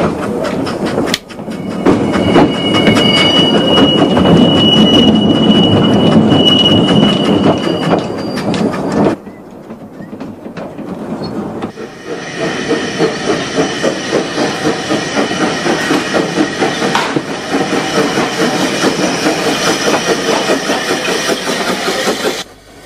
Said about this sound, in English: Nicknamed La Panderola, after a kind of cockroach, this was in part a classic roadside tramway.